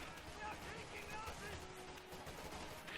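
Rapid bursts of rifle and machine-gun fire in the World War II strategy game Company of Heroes 2, a busy, layered crackle of shots over game ambience.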